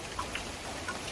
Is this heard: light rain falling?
yes